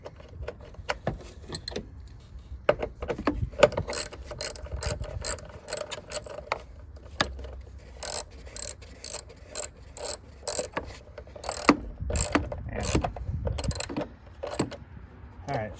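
Ratcheting and metallic clicks while a car battery hold-down bolt is screwed in on a 2022-2025 Hyundai Tucson, irregular close clatter of tools and parts with brief pauses, no talking.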